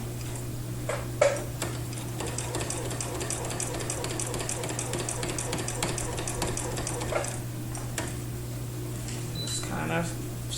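Sewing machine stitching in the ditch during free motion quilting, a fast steady rattle of needle strokes that runs continuously over a constant motor hum, with a person talking at intervals.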